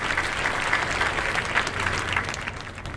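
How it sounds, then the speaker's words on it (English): At a county fair tomato pageant, the audience gives a sustained round of applause, dense and fairly close, easing off slightly at the end. "please just give another round of applause for Miss Liberty Center Village, Miss Emma Reckner."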